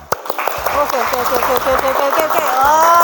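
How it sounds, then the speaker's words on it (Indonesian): A morning classroom of students claps hands in scattered, uneven bursts while lively young voices call out loudly over and between the claps. "Tepuk tangan deh."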